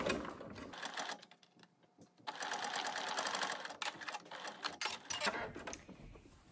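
A sewing machine stitches a seam in several bursts of rapid mechanical chatter, stopping and restarting with brief pauses between runs. Close and fairly quiet, with faint talk in places.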